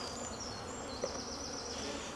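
Bees hum steadily around hive boxes during an inspection, a close, continuous buzzing swarm with no voices over it.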